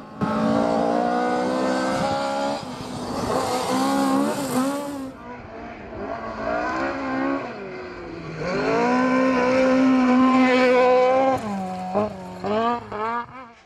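A Toyota Starlet rally car at the Armstrong Galloway Hills Rally 2019 revs hard through a sideways slide, its engine note rising and falling with gear changes and bursts of throttle, loud and close before fading away.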